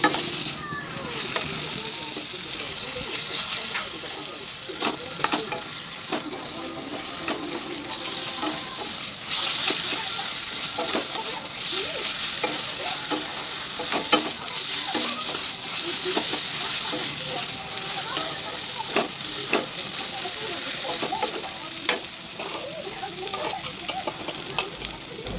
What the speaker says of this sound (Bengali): তো হালকা হাঁচে আমি পেঁয়াজটা ভেজে নেবো